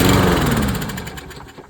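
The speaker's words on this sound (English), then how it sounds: "Then go ahead and press start your lawnmower." A Toro lawnmower engine with a carburetor problem sputters briefly and loudly, a short rough burst of small-engine noise that quickly fades away, with no talking.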